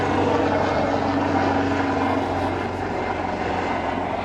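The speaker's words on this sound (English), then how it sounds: "Helicopter going to go directly over our head now." A helicopter passes directly overhead near a RIB on the water, its rotor and engine roar loud, close and steady for the whole stretch, with no voices.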